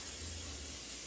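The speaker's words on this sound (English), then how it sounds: "I'm gonna spray the grill pan with the olive oil spray" Olive oil cooking spray hisses onto a grill pan in one short, steady burst of soft close hiss, with no speech.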